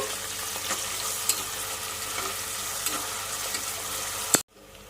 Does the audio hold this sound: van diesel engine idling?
no